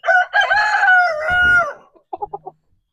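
Backyard chickens, an Easter Egger and Brahma-cross hens, give a loud, drawn-out tonal call followed by a quick run of four short, close clucks before falling silent.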